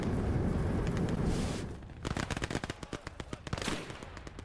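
Rapid gunfire crackles in the World War II strategy game Gates of Hell, a dense rattle of machine-gun bursts and separate shots following a rumbling stretch, fairly distant and uneven in rhythm.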